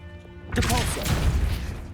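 A Depulso force spell strikes in Hogwarts Legacy, landing as a sudden loud crash and thud over game music, with a short rush of noisy impact that lingers briefly.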